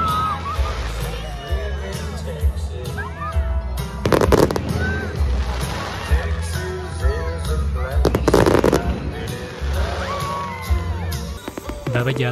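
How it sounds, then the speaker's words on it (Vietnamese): Fireworks finale at a Texas Independence Day festival, with rapid crackling and two heavy bursts of booming explosions rising over a steady background of crowd chatter and voices. "Và bây giờ là những giây phút cuối cùng của màn pháo bông, là màn kết thúc đây, rất là đẹp."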